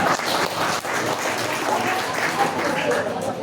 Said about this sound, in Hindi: हाँ, ताली बजाओ थोड़ा सा।